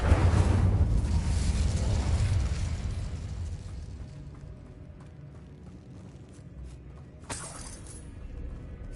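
Incendio fire spell cast in Hogwarts Legacy, a loud burst of fiery blast that fades over several seconds into quieter ambience, followed by a sharp crackling pop near the end.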